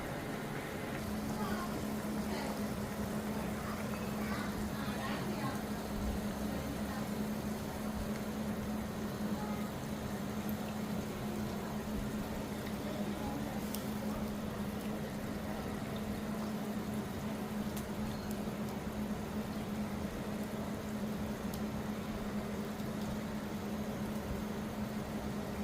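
A pot of curry for prawn theeyal boils steadily on the stove, giving a continuous low bubbling hiss over a faint steady hum, with no talking throughout.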